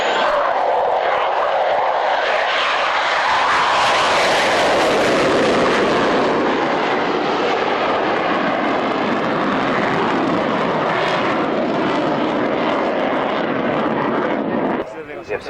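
An F-16 fighter jet flies at the Yeovil Airshow, its loud, sweeping engine roar dominating the whole stretch while a commentator talks over it.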